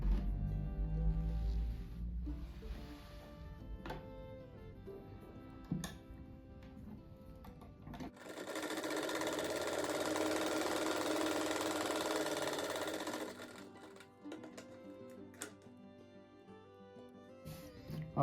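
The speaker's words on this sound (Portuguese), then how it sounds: "agora eu venho e costuro ele com esse quadrinho aqui" A sewing machine runs in a steady whirring burst while stitching fabric squares together for a handmade rug, loud in the middle of the passage with quieter handling noises and soft music before and after.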